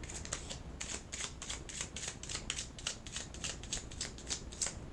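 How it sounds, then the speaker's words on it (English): A deck of tarot cards riffled and handled with quick, crisp flicks in a steady repeated rhythm, close and clear with no talk. "let's go and pull you a second card here"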